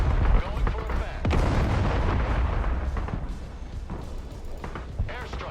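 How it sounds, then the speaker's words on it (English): Artillery fire in the video game Broken Arrow: repeated heavy booms and blasts rumbling through continuous battle noise, loud and close, with a strong hit near the start and another near the end. "The artillery's gonna fucking ruin us, unfortunately."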